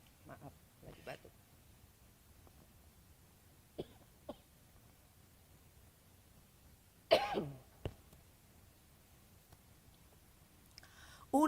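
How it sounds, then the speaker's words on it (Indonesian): Coughing from a person leading a Sunday church service, a sharp burst of a few close coughs standing out from quiet room noise, with a couple of fainter throat sounds before it and a brief noise near the end. "Maaf, lagi batuk."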